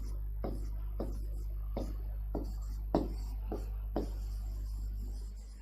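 A teacher hand-writes her name on a board, producing a series of distinct scratchy strokes and taps in an irregular rhythm, close and clear over a low steady hum.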